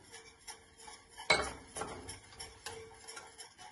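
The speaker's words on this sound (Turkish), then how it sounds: "Ve şekerimizi ekleyip hızlı hızlı karıştırıyoruz." Milk, flour and starch being stirred in a pot for a pastry cream, with light scraping and clinking of a utensil against the pot and a sharper knock near the middle, moderately close and without talk.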